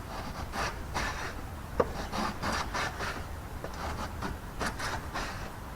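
Wood rasp working a hickory longbow limb, a steady run of rough rubbing strokes at close range with one sharp knock partway through, no voices.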